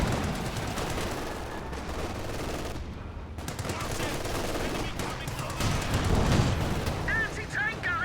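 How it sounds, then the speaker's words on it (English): Enemy gunfire in a competitive multiplayer war game match, sustained rattling shots and rumbling blasts throughout, with a caster talking over the action. "The Founders are firing on us!"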